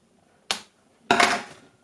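Scissors snip a plastic tag fastened to a Barbie Fashionista doll's hair, giving two sharp, close cuts: a short first snip, then a longer crunching one, with silence around them.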